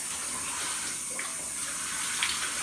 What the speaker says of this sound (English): This shower ain't gonna be too long.